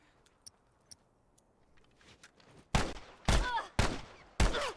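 Submachine gun fire in The Last of Us: after a few faint clicks and ticks, four loud close bursts of automatic fire arrive in quick succession, each a sharp crack with ringing tail, no talk.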